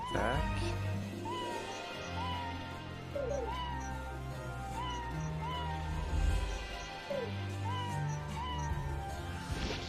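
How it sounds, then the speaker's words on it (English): Repeated synthetic cat meows from the 1996 Konami game Suikoden over game music and effects, the mewing calls recurring every second or two at a moderate level throughout. "Sorry if the the cat sound is aggravating, but I cannot change it"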